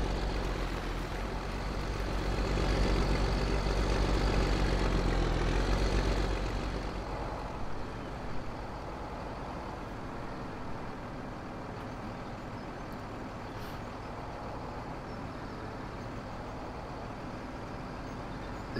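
A pickup truck with a Duramax diesel engine in Farming Simulator 17 drives along, its steady low engine rumble rising briefly, then settling into a continuous drone.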